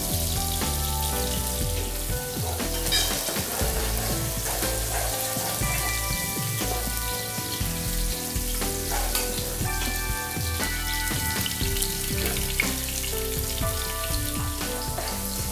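Ginger and chopped garlic fry in oil in a pan for a Kerala-style prawn biriyani, giving a steady, close sizzle throughout with occasional stirring. Tonal background music plays continuously over the frying.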